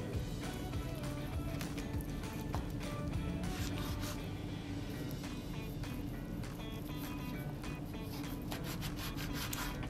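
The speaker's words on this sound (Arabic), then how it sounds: "هنبدا بقى نقطع الفراخ بتاعتنا" Knife slicing chicken breasts on a cutting board in a home kitchen, a steady scraping and rubbing texture with repeated soft knocks running throughout at close range, with no talking.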